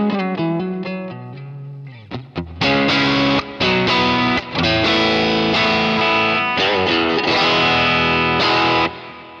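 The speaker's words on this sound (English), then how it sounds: "Here's a tube screamer on it." A Stratocaster electric guitar runs through a Kemper amp profiler with a Tube Screamer overdrive and a Deluxe Reverb amp profile, playing loud, crunchy distorted chords and riffs with sustained notes and brief pauses.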